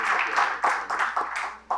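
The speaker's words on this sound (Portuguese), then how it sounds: "eu queria uma enorme salva de palmas para o Virgílio, pela brilhante palestra" Conference audience applause after a keynote lecture, with bursts of clapping that swell and fade in waves, fairly close and steady throughout.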